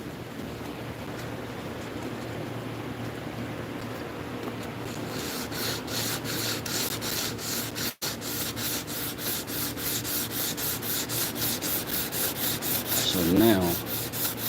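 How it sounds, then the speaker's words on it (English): Wood being hand-sanded with steady back-and-forth rubbing strokes, rhythmic and close, growing faster and more even after the first few seconds; a brief voice is heard. "They are mesmerized by my sanding."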